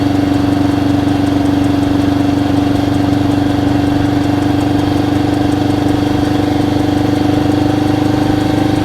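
A Honda CL77 Scrambler motorcycle engine runs steadily on a test ride, a loud continuous mid-pitched drone with a strong low hum and no talking.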